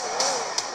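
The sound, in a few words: engine revving from a Nintendo Switch game through the speakers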